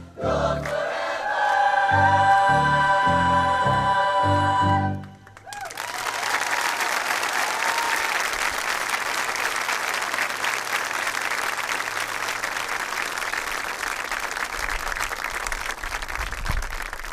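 Audience applause fills a convocation hall after a marching band and choir finish, with music fading out in the first five seconds before sustained, dense clapping that continues steadily at full strength.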